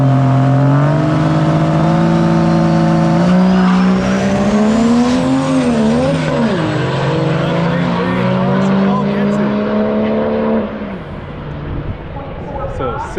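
Drag race cars at a street drag race day accelerate hard, with loud, sustained engine roar and rising, shifting revs over about ten seconds before easing off, heard alongside talk.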